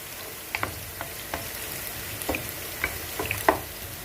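Onions frying in a pot as the base for a fish stew, giving a soft, steady sizzle with scattered small pops and crackles, quiet and close, with no talking.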